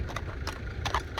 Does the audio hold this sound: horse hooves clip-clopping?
yes